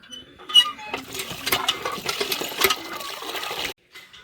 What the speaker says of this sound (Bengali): এখন মাংসগুলো ধুয়ে নেবা ভালো করে।